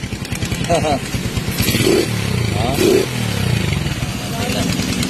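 A Rusi Turbo motorcycle engine idles with a rapid putter and revs briefly a couple of times, while people talk over it.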